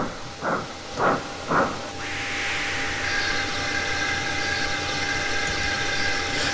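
A steam tank engine rests at a station: three short, sharp puffs come first, then a steady, close hiss of escaping steam runs on without a break.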